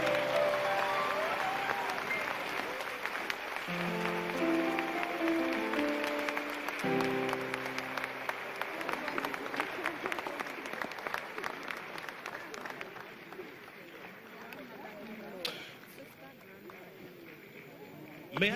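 Audience applause at an honorific lecture celebrating a lawyer's lifetime achievements, a steady wash of clapping over soft keyboard notes and voices, fading somewhat toward the end.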